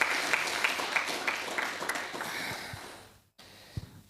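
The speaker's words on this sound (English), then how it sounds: "give yourselves a round of applause" Audience applause at a startup policy tech talk, loud clapping from a crowd that gradually thins and fades, then drops to near silence before a few scattered handling knocks.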